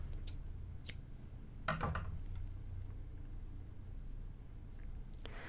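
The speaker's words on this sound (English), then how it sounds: "Just cut off this tail." Scissors snip off a loose cotton thread tail while making spun cotton carrot ornaments, with a few faint crisp clicks and one slightly fuller cut over a constant low background hum.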